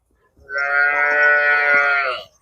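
A cow offered for sale with its calf at a livestock sale lets out one long, loud, close moo lasting about two seconds, no talking over it.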